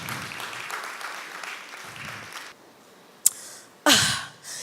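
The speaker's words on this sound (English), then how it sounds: "Please, a round of applause for them as they come on stage." Audience applause at a youth spoken-word event greets performers coming on stage, a fairly steady clapping wash that fades out midway, then two short loud bursts of noise follow near the end.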